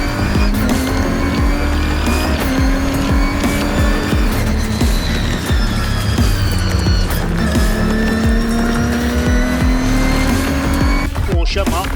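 Race cars roar away at the start of a Britcar endurance race at Thruxton circuit, several engines layered together with rising and shifting pitches as they accelerate past, loud and continuous under commentary.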